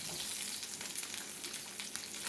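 Salmon fillet sizzles steadily in a frying pan, a dense crackling hiss with small pops, close but fairly quiet, with no talking.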